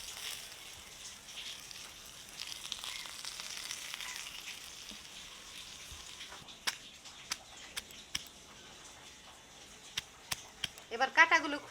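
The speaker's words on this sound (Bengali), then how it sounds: "এবার ভেজে নেব।" Salted, turmeric-rubbed hilsa fish tail frying crisp in a pan gives a steady soft sizzle throughout. Sharper crackles and pops grow toward the end, and a voice speaks briefly near the close.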